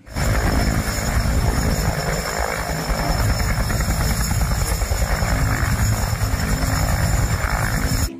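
A helicopter flies with a loud, steady whirring drone that holds an even level for about eight seconds, with no talk.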